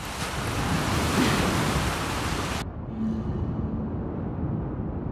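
Rough, stormy sea waves surge and crash continuously in The Last of Us Part II, a loud broadband roar that drops to a duller, muffled wash halfway through, as if heard from below the surface.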